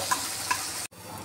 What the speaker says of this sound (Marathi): त्यामध्ये वाटलेला मसाला टाकून व्यवस्थित फ्राय करून घेऊ